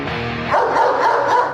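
A guard dog barks aggressively at close range, a loud, harsh, intense vocal burst with growling texture, heard alone without talk.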